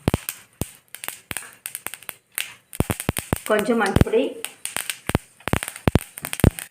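Mustard seeds spluttering in hot oil in a pan while fenugreek goes in for a Tamil fenugreek curry: sharp scattered pops and crackles, some close and loud, with someone talking over them.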